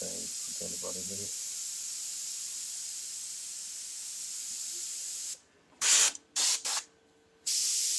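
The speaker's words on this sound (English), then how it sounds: "Airbrush is really playing up on me at the moment" Airbrush spraying paint while freehanding a skull design, a steady hiss that cuts out and sputters in short bursts near the end as the misbehaving brush is triggered on and off.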